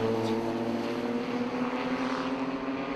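Porsche race cars, including a Cayman and a 997, pass in a group at Oulton Park circuit during a club championship race. A loud, droning engine roar holds steadily throughout, with no voices.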